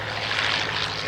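A propeller airplane takes off at an evening air display, its engine a loud, steady droning buzz heard close by and alone for a brief moment.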